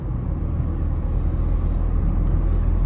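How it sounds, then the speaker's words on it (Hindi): Maruti Suzuki WagonR LXi CNG BS6 car cruising in fifth gear, a steady, continuous engine and road rumble heard from inside the cabin, with no talking. "अब लगा दिया मैंने फिफ्थ गियर।"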